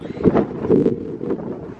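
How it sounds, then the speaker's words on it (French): Strong wind on the Brittany coast buffets the microphone in low, rumbling gusts that swell and fade over a couple of seconds, close and fairly loud with no voices. "il y a beaucoup de vent"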